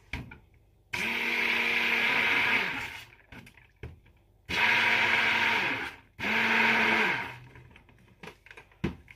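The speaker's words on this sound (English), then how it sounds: "So I always give it just a little fuzz with a stick blender to break that up." Stick blender whirring in goat milk during soap making, three strong sustained bursts of buzzing motor noise separated by short pauses, close and loud with no talk.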